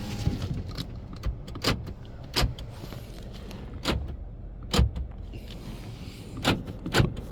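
Power windows on a 2011 Toyota Camry running up and down, heard as a low mechanical hum inside the car broken by a series of sharp clicks and thumps at irregular intervals, close and moderately loud.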